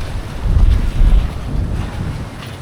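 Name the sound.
boat with wind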